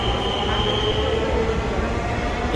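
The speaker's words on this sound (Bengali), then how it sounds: "স্বল্প সময়ের ব্যবধানে আমরা আরও একটি ট্রেনকে দেখতে পেলাম প্ল্যাটফর্মে আসছে" Metro train pulling into Karwan Bazar station platform in Dhaka, a loud steady rumble with a high whining tone and constant rolling noise throughout, close by.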